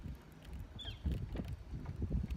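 Strong wind gusts buffet the microphone outdoors on the water during freezing-weather fishing, a steady low rumble with louder bursts throughout.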